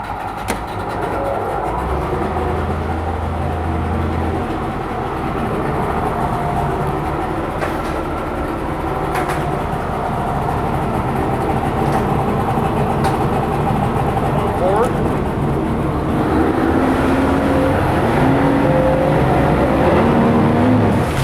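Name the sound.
1995 Yamaha 70hp two-stroke outboard boat motor running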